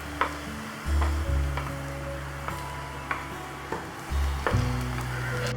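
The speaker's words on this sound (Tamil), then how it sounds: "இப்போ நம்ம அரைச்சி வச்சுருக்க அந்த வெங்காய தக்காளி பேஸ்ட்டை வந்து இதில் ஆட் பண்ணிடலாம்" Onion-tomato paste sizzles steadily in a pan with fried onions and garlic, a continuous loud frying hiss broken by occasional stirring scrapes and knocks.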